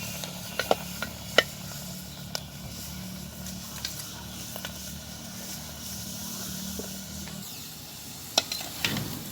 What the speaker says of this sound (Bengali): আমি আলুটা একদম লাল করে ভেজে নিয়েছি, এবার তুলে নিচ্ছি।